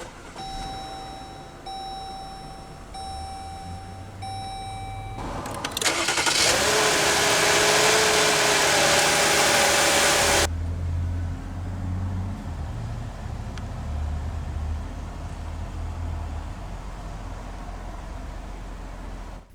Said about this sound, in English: let's go ahead and start the engine.